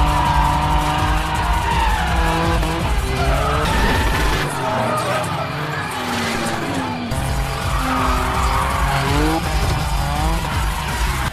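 Tires squeal and skid loudly as a racing car slides around a basement car park in a film, engine revving underneath with shifting pitch and a brief dip midway before the squealing resumes.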